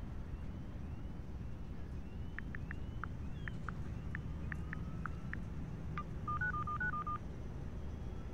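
Phone tones unlocking a laptop in the racing video game Need for Speed Heat: a series of short electronic beeps in irregular rhythm, then a quick run of rapid stepped tones, over a faint low background hum.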